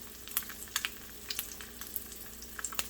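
An egg fries in a hot pan, its white turning crispy, giving a steady sizzle broken by sharp crackling pops spaced irregularly throughout, close and fairly quiet.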